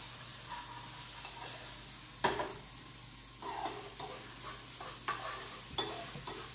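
Smoked tempeh caramelizes in a hot pan for plant-based barbecue tacos, giving a steady low sizzle broken by a few louder scraping stirs close by, with no one talking.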